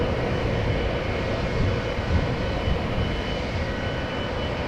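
A KLM Boeing 777 jet airliner taxis at Amsterdam Schiphol Airport, a steady broadband engine roar heard from a distance, continuous and even with no voices over it.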